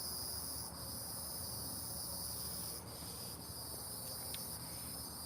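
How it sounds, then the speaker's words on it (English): Crickets chirp in a steady, continuous high drone that carries on without a break through the whole stretch. No voices can be heard. "Honestly, crickets, it wasn't that deep."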